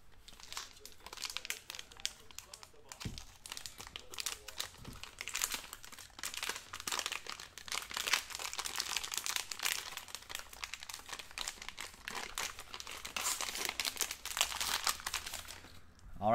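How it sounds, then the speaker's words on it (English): Little plastic bags crinkle and rustle continuously as 2019 Gold Rush Argonaut baseball trading card packs are opened, close-up, busy crackling with no talk over it. "Oh, I think they're in little plastic bags"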